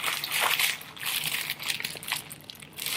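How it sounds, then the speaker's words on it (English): Bubble wrap wrapped around glass foundation bottles while packing crinkles in soft, irregular bursts of crackling that come and go throughout, fairly quiet and close, with no voices. "I took some bubble wrap and I just kind of wrapped them up"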